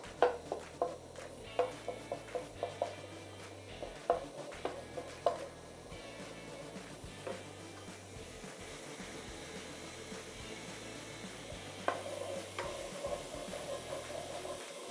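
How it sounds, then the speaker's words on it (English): Ginger and garlic cooking in about four tablespoons of oil in a pan for fried rice, with a faint continuous sizzle and a string of light utensil taps and scrapes near the start, then quieter frying. "I'm going to put 1 teaspoon of the ginger and garlic and let it cook for a while"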